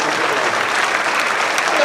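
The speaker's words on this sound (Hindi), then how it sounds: "जोरदार तालियों से" Loud, dense applause from a church congregation at a Friday worship service fills the whole moment, steady and close with no break.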